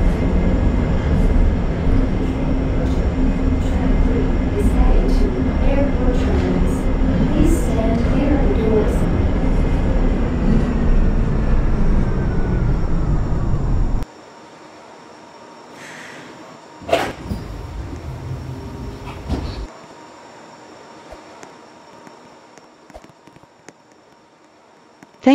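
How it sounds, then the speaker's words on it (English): An airport transit train at Westwood Airport rumbles loudly as it slows on its approach to the final station, then goes quiet. Brief mechanical clunks and door sounds follow at the stop. "Please hold on, we are approaching Eston Interchange Station, the final stop."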